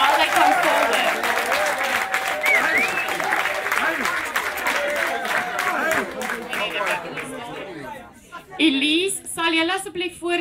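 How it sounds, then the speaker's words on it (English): Audience applause at an awards dinner event, a dense wash of clapping lasting most of the stretch with voices chattering underneath, thinning out near the end as talk takes over. "Please give them a big round of applause while they come forward."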